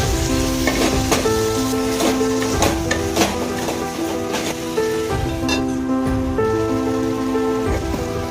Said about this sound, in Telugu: కరివేపాకు వేసి కలుపుకొని టమాటా ముక్కలు వేసి కాసేపు మగ్గనివ్వాలి